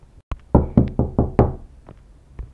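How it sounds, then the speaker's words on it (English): Someone knocks on a door in a rapid series of about eight sharp raps, loud and close, separated by brief uneven pauses. "Sorry, Elmo, I have to go get the door"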